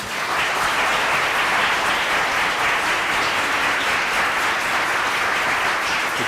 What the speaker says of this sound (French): je vous propose quand même de l'applaudir très fort